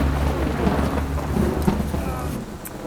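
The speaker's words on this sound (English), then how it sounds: "And it is starting to rain something fierce." Heavy rain pours in a Home Depot parking lot while thunder rumbles low and steady underneath, a dense, loud wash of rain with a few sharper cracks and no voices.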